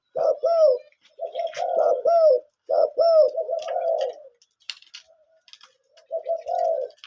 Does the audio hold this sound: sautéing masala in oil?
no